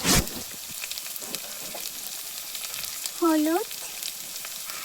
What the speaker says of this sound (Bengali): দিয়ে ভালো করে ভেজে নেবো হালকা হালকা করে